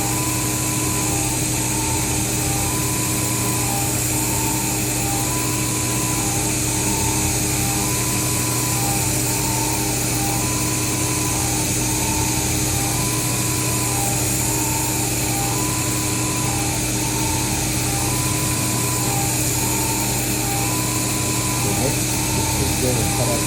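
A home shop CNC mill cutting a pocket on its first program: a loud, steady machining whine with constant tonal hum and a regularly pulsing tone, continuous throughout, with someone talking over it.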